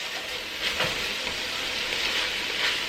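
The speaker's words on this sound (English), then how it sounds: "And we're gonna give this a good mix." Hamburger vegetable beef soup with onion, garlic, celery and kosher salt being stirred in a pot: a steady, close sizzling and scraping wash that stays loud and even throughout, with no talk.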